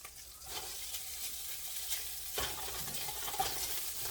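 Stir fried rice sizzles in a hot pan, a steady broadband hiss with faint scraping and stirring sounds throughout, plus a brief louder burst partway through.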